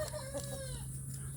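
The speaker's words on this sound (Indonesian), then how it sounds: "anak ayam kampung ini juga aman-aman saja bergabung dengan indukan ya" Free-range village chickens kept with their chicks, a hen giving a few quick clucks close by, then a steady low hum underneath as the calls stop.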